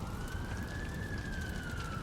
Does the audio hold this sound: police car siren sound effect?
yes